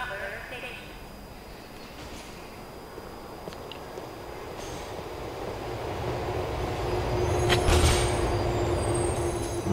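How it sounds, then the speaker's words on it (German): A train arriving at a platform in the video game Grand Theft Auto IV: a low rail rumble that swells louder toward the end, with a voice heard along the way. "Warte, bis der Zug kommt."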